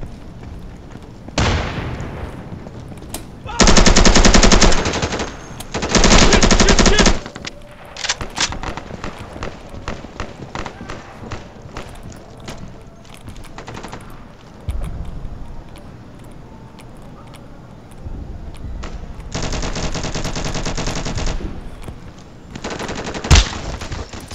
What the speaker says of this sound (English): still getting shot, dude, outside our spawn, man